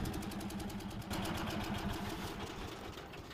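A screw drive off-road vehicle's engine runs close by with a rapid, rhythmic knocking chatter as the screws churn the ground, steady for a few seconds.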